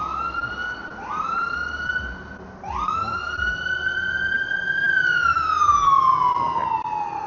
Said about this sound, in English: Oh, an ambulance.